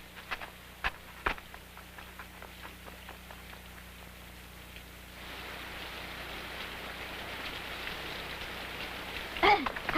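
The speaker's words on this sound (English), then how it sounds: "It started to rain." Steady rain pattering on the ground outdoors, with a few sharp knocks early on before the downpour thickens halfway through into a denser, louder hiss that carries on to the end.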